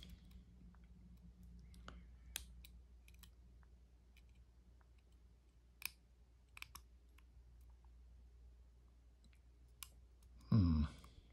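A school-style Master combination lock being picked, its dial giving small, sparse clicks scattered through quiet near-silence, with a louder burst of handling near the end.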